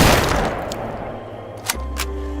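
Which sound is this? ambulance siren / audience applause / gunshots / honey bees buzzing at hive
gunshots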